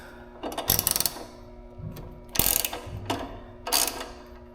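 Ratchet fitted with a 10 millimeter socket loosening a battery hold-down bracket on a Gio G2000, several quick clicking ratchet strokes in separate bursts, close up, with no talking.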